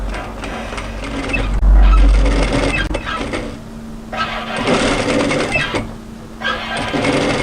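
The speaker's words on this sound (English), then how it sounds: "I'm now going to sew a line of stitches this side of that first line" Domestic sewing machine stitching a line on knit fabric for a winter tee dress, a loud whirring needle run in several bursts separated by short pauses.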